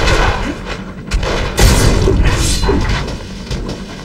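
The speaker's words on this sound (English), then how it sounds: "Oh my god, I'm being shot." Gunfire striking Wolverine in the PS2 game X-Men Origins: Wolverine, heard as a string of heavy booming impacts and crashes layered over continuous loud game noise.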